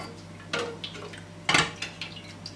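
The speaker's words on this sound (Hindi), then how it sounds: "इसकी साइड चेंज करूँगी और इसे फ्राई करूँगी" Aloo paratha frying in a pan, with a few sharp metallic clinks and scrapes of a utensil against the pan over a low background hum, no voices.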